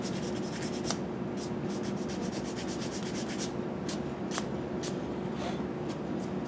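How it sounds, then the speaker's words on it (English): Steady rhythmic rubbing and scraping of a sanding block over cork on a saxophone neck, fairly close, with a low background hum throughout. "this is where this sanding block is great because you can just go"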